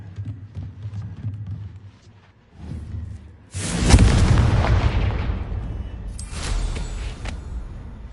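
A Confringo blasting spell explodes in Hogwarts Legacy, exploring on PS5. Quiet rumbling gives way midway to one loud, sudden blast that roars and slowly decays, with a smaller burst near the end.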